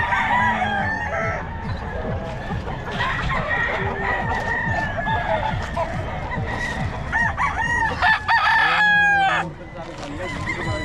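Roosters crow repeatedly and chickens cluck close by at a busy fowl sale, with overlapping calls throughout and a loud crow near the end, while people talk in the background.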